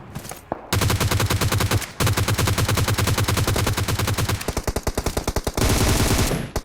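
Gunfire in the PUBG Mobile video game rattles loudly in rapid automatic bursts, close and sharp, with a short pause between sprays before the firing resumes and continues to the end.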